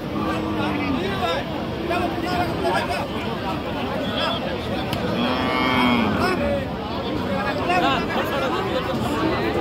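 Cattle low repeatedly with deep, drawn-out moos over crowd chatter and nearby voices at a busy open-air cattle market in Aftabganj.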